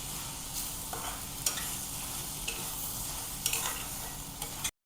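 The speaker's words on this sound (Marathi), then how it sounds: "झाकण न ठेवता असंच एक 3-4 मिनिटे कोबी अशीच परतून घ्यायची आहे" Shredded cabbage stir-fried uncovered in an open pan, a steady close sizzle with scraping spatula strokes and occasional clinks, no voices.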